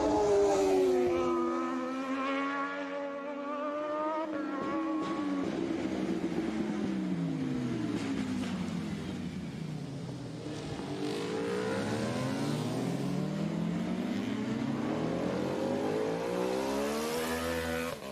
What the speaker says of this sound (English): The sound of a bunch of bikes gaining speed together.